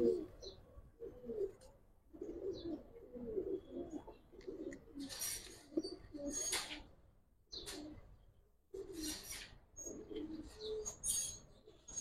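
Giribaz pigeons coo in soft, repeated bursts close by. Some sharper chirps and brief wing flutters break up the low, rolling calls, with short quiet gaps between them.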